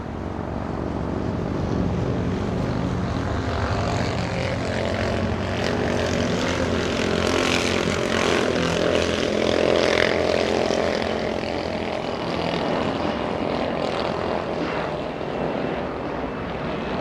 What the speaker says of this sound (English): We're going to go to that 777 taxiing on